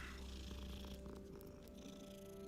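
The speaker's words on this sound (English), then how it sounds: "Let's pet the cat." A cat in the Hogwarts Legacy video game purrs while being petted, a continuous soft, low rumbling purr heard alone at a quiet level.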